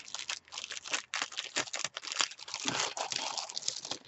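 Crinkly plastic bag holding vintage craft kit supplies being pulled and torn open, a continuous close rustle and crunch with sharp bursts, no voices.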